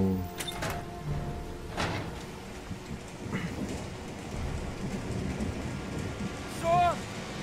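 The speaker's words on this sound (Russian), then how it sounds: "третий день ливень ебашит, что ли?" Heavy rain pours steadily in the video game Heavy Rain, a dense hissing downpour with occasional louder knocks and a brief rumble near the end.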